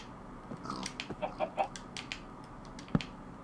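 Chickens clucking in the video game Minecraft, a few short, soft clucks scattered over a low background, then one sharp click near the end, with no talking.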